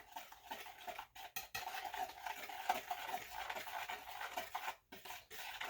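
A utensil stirs English muffin flour mixture in a bowl to break up clumps, producing soft, continuous scraping and rubbing with brief pauses, quiet and close.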